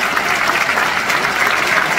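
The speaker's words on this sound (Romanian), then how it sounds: "Aplauze pentru Taraful Cătălin Iancu!" Loud, dense audience applause for a folk band (taraf) at a stage show, sustained and even throughout, with no voices over it.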